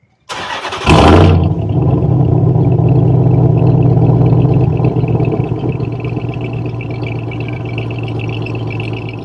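A RAM TRX pickup truck's engine cranks and fires with a loud burst, then settles into a deep, steady rumbling idle heard from outside the vehicle, gradually easing slightly in volume.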